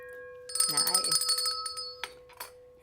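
A hand bell from a boat rings in a bright, sustained peal, its steady tones hanging on while people talk and laugh over it.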